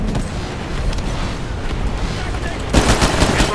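Rapid smart pistol gunfire rattles in a loud, continuous burst in the video game Titanfall, with a heavier blast near the end and game action filling the background.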